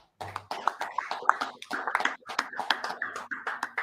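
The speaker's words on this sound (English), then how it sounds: "Clap it up, get a load of hand" A group at a brotherhood class gathering claps hands in a brisk, steady run of sharp, close claps lasting several seconds, with a faint voice briefly underneath.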